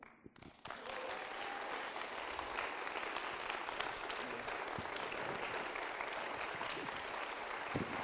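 Audience at the Geneva book fair applauding authors Bernard Werber and Mathias Malzieu: after a brief quieter start, dense sustained clapping from a large crowd, even and full, with no clear talk over it.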